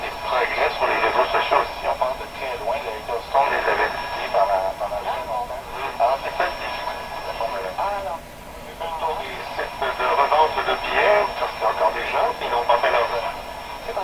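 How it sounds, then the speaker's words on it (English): A 1929 Victor RE-45 radio is tuned slowly through a station, giving a continuous broadcast signal with voice-like programme content, a steady high whine and shifting hiss and distortion throughout. "So I'm tuning it slowly through the signal."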